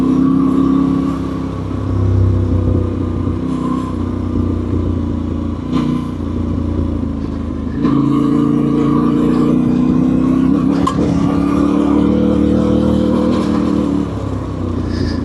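Yamaha Tenere 700 motorcycle ridden along a rough logging path in Scotland, a loud, steady engine drone with shifting revs, rattles and clatter from the bumpy ground throughout, no talking.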